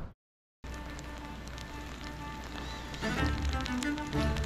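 Steady broadband patter of rain during a bike ride, close and continuous, growing a little heavier and rougher toward the end, with no voices.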